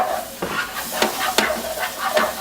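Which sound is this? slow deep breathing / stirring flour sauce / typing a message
stirring flour sauce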